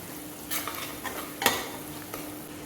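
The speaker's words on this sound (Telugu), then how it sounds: "అల్లం వెల్లుల్లి పచ్చివాసన లేకుండా బాగా వేయించుకోవాలి." Ginger garlic paste and onions frying in a pan, with a few clear stirring scrapes and brief louder clinks over a steady low sizzle.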